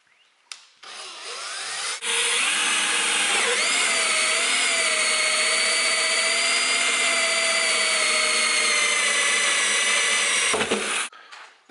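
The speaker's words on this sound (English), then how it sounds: "and then we'll just drill our hole" A power drill bores a hole through the side of a 55-gallon plastic barrel being made into a compost tumbler, a steady loud whine running about nine seconds after a brief start, then stopping, with no talking.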